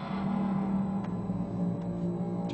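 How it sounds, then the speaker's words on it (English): A garbage can lid pitched down an octave and drenched in reverb, used as a Sovereign sound effect for Mass Effect: a dense, rumbling drone with a strong low hum, steady and loud for the whole stretch, with faint metallic shimmer on top. "that's really just a garbage can lid pitched down an octave"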